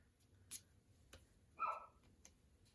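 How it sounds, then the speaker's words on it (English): Dog named Mila giving one short, faint muffled bark from downstairs in a quiet house, amid soft scattered ticks and clicks nearby. "I just heard barking downstairs"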